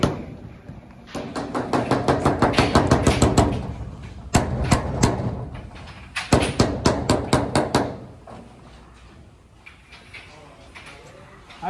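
A hammer taps steadily on the sheet metal of a dented roll-up door, working out a bulge in quick bursts of sharp, ringing, close-up strikes separated by short pauses.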